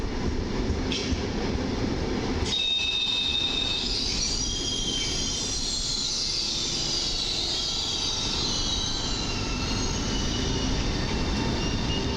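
A train runs past platform 6 at Warszawa Zachodnia station, a loud steady roar of rolling wagons with high metallic wheel squeals rising and lingering throughout.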